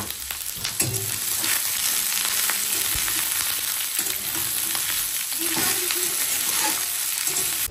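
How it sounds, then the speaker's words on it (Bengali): Potato and onion curry sizzles and fries in a pan, a steady loud crackle with occasional stirring scrapes and clinks throughout. "এই যে এখানে এখন রান্না করছি আলু পেঁয়াজের তরকারি"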